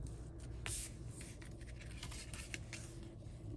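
Paper being glued onto the inside of a card base for a holiday card: soft, close rubbing and smoothing strokes with light scraping, quiet and steady, without speech.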